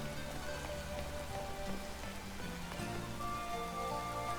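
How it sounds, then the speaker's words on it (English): Steady rain falling in the Pokémon Violet video game, a continuous soft patter on surfaces under layered background music, with no talking. "And now it's raining."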